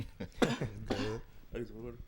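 Someone clears their throat in a few quick, rough, voiced bursts, close to the microphone.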